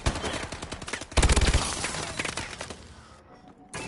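Rapid bursts of automatic gunfire and sharp shots in Call of Duty: Advanced Warfare, loud and dense, peaking in a heavy volley before tailing off into quieter background game noise.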